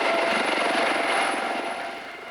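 A helicopter in winter after a crash carries victims away, its engine and rotor wash a steady broadband roar heard at mid distance that fades slightly toward the end, with no voices.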